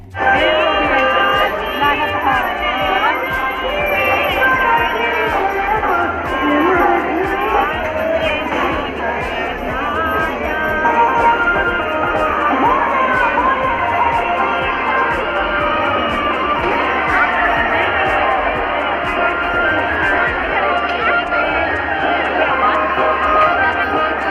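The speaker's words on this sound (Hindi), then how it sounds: "मैं एक बार कैमरा घुमा के आप लोगों को दिखा देती हूँ कि यहाँ पे बहुत ज़्यादा भीड़ है" Dense crowd hubbub at a riverside ghat during the Chhath festival, with many voices overlapping in a steady, loud murmur that continues throughout.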